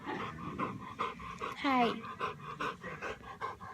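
A heavy Great Dane pants in quick rhythmic breaths close by, with a brief whine in the middle, while a person speaks softly over it.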